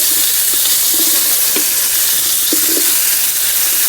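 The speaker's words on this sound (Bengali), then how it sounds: "এই তেলেই ফুলকপি ভেজে নেব।" Cauliflower frying in oil, a loud, dense hiss of sizzling with a few soft knocks of stirring scattered through it.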